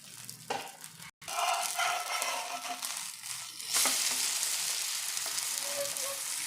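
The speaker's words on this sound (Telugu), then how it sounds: "కొంచెం అంత ఆయిల్ వేసుకొని ఫ్రై చేసుకోవాలి మెల్లిగా" Broccoli omelette frying gently in a little oil in a pan gives a steady, close sizzle that cuts out for a moment near the start, then swells into a brighter, louder hiss that holds to the end, with no talking.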